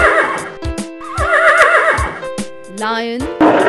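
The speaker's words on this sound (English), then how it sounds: "Horse." A loud, quivering horse neigh rises and falls amid music and a brief spoken voice, followed by a short second whinny.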